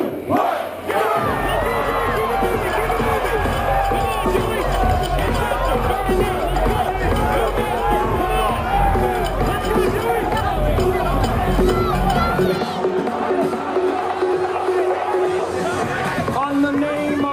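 A packed Brooklyn crowd roars and cheers right after a countdown, a loud, dense wall of voices that holds for many seconds before easing back slightly near the end.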